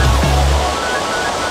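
Mountain river flowing at Mt. Kusembu, a steady, loud broadband rush of water close by, with a low rumble in the first half-second and no talk.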